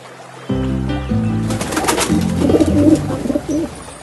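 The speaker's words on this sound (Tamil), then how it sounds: "கேட்ட புறா உடனே மரத்தின் மேலிருந்த பாதுகாப்பான கிளைக்கு பறந்து சென்றது" A pigeon gives a few low, rounded coos close by, followed by a brief flurry of wing flaps and rustling as it takes off toward a branch.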